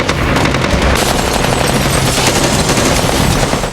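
Gunfire rattles loudly through a battle in a zombie TV show, a dense, continuous burst of rapid shots with booming low rumble, close and overwhelming for the whole stretch.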